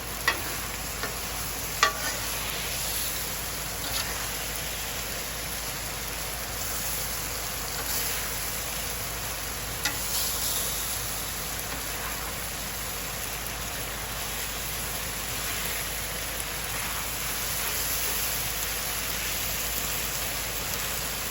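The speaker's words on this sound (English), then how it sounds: "They're going to toast to give them lots of flavor." Peanuts toasting in a hot pan give a steady, soft crackling sizzle, like light rain, that runs unbroken at close range, with a few faint stirring scrapes and no voices.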